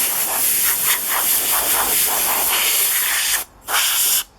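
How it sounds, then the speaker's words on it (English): An air compressor hose blows a loud, continuous hissing jet outdoors, pulsing slightly, then cuts off briefly near the end before a final short blast. "I got my air compressor hose here,"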